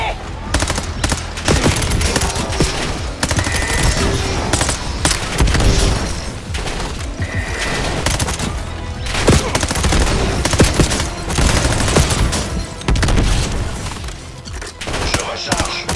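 Sustained rapid gunfire and explosions from a Call of Duty Black Ops 7 battle against robots, loud and continuous throughout, with dense bursts of shooting layered over booming blasts.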